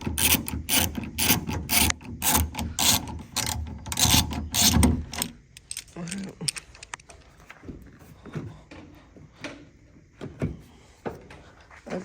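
A ratchet loosens a bolt on the door of a 2024 Toyota Tundra, close by. It opens with a loud, fast run of clicking strokes, then drops to quieter, slower scattered clicks and handling noises.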